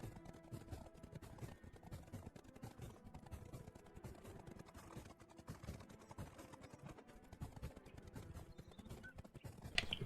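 Horse hooves clip-clop steadily in Black Desert Online on console, a continuous rhythmic trot layered over game music and ambient sound at moderate loudness.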